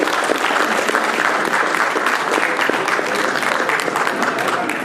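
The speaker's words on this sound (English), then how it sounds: "Please clap louder." A crowd at a university convocation applauds, dense steady clapping from many hands that keeps going at an even level throughout.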